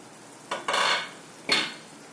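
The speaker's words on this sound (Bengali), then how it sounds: "এখন ঢাকনাটা খুলিয়া দেখি আমটা নরম হয়েছে কিনা।" A metal lid is lifted off a pan of mango cooking on low heat, giving a short clatter and scrape, then a second brief metallic clink with a soft sizzle.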